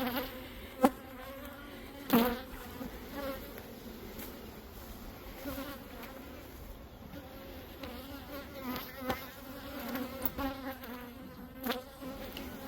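Defensive honeybees swarm around an insulated hive, a steady dense buzzing of many insects close by, with a few louder passes near the microphone and no talking.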